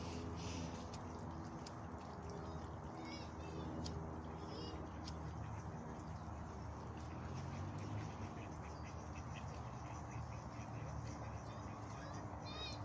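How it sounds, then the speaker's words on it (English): A flock of some twenty to thirty ducks quacking outdoors, faint and somewhat distant, with scattered overlapping quacks over steady background noise while a person talks nearby. "Don't know if you guys can hear the ducks in the background"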